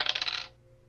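A d8 die clatters and rolls across a tabletop during a tabletop roleplaying session, a quick burst of bright rattling clicks for about half a second that then stops, close and alone.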